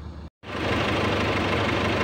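A 2008 Nissan Navara with a YD25 engine runs rough and shakes, giving a close, steady, loud mechanical drone with a low vibrating rumble, broken once by a brief near-silent gap.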